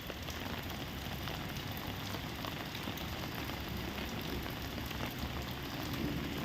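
Heavy monsoon rain pours down steadily in Karnataka, a dense, unbroken hiss of drops drumming on surfaces from start to finish, loud and close with no voices.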